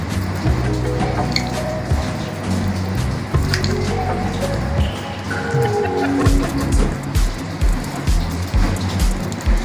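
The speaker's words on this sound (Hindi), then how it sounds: "मसाले को मैंने यहाँ पे पूरे रोटी पे फैला लिया है।" Cooled masala spread by hand over a leftover roti gives soft wet squishing and smearing sounds, close and moderately loud, with a steady background hum and faint tonal sounds underneath.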